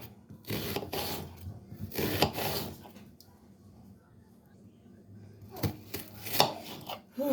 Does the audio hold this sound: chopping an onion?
yes